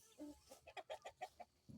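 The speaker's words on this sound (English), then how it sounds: "I do have a Dominicker rooster in there with them." A run of quick, rhythmic clucks from hens and a Dominique rooster, fairly quiet and a little distant, with no one speaking.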